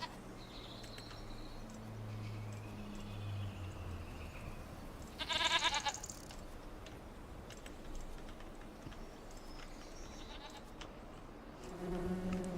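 Goats in the Farming Simulator 25 video game let out one short bleat midway through, heard over a soft, continuous farm ambience with faint buzzing insects and a few other quiet animal calls.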